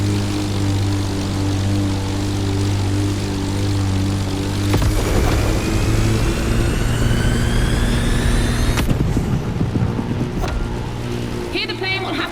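An airborne propeller plane races an AGP in The Crew Motorfest, giving a steady, loud engine drone with a rising whine that surges around the middle and again near the end.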